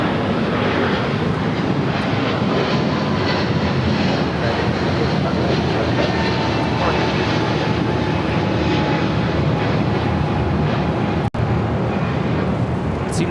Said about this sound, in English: It's United Airlines 1890 taking off to Newark